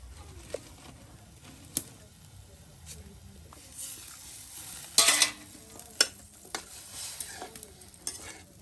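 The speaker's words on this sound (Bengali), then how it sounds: "কবুতরের গোস্ত একদম ভাজা ভাজা করে নেওয়া" Pigeon meat fries in a pan with a soft steady sizzle while a spoon stirs and scrapes it in intermittent bursts, one louder clatter midway, with faint voices in the background.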